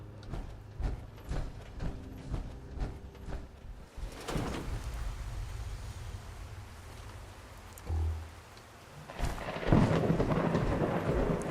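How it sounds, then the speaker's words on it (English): Thunder rumbles and cracks over steady rain during a storm in Fallout 4, with several loud low bursts, a heavy crash near the middle and a strong rolling peak toward the end. "Another storm."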